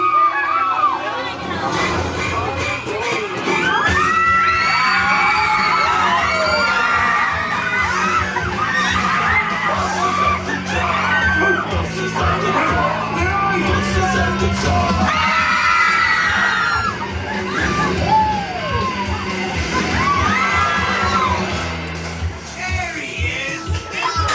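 Riders scream and shout on a Disney California Adventure ride during its Monsters After Dark Halloween overlay, loud layered yells and whoops rising and falling over a steady rumble of ride noise throughout.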